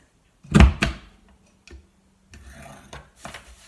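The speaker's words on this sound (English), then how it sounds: "You're going to put your paper in your envelope board and you're going to punch and score at 2 3/8." Paper is punched and scored on an envelope punch board in a craft setting, making a sharp thumping punch followed by a softer click, then a brief scraping rub of the scoring tool along the paper.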